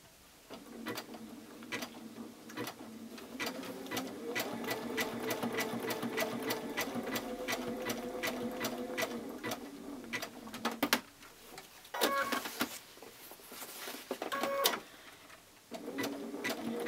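A sewing machine runs a fine zigzag stitch appliquéing a Dresden plate quilt block, a fast even whirring patter that pauses briefly and restarts in short bursts, close and alone.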